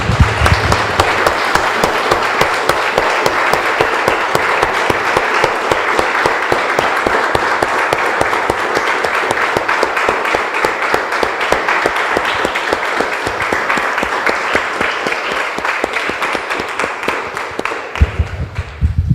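A church congregation claps for the Lord in sustained, loud applause that fills the room for nearly twenty seconds, steady and even before tapering off at the very end.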